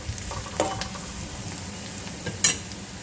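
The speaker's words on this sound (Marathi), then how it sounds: "मी अधेमध्ये याला छान परतून असं गोल्डन ब्राऊन करून घेतलेलं आहे" Onions frying golden brown in a pan, giving a steady close sizzle with a few scraping stirs and light utensil clinks and no voices.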